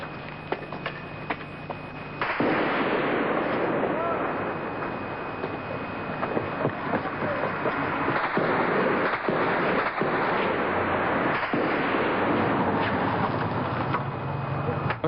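Gunfire during a shooting in 1982 news footage, a dense, loud stretch of sharp cracks and bursts over continuous rough noise.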